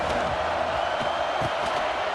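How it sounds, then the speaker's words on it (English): A stadium crowd at an Ohio State vs Notre Dame college football game roars in a steady, dense wash of noise, with faint bursts of cheering rising through it. "This crowd ready to make its presence known."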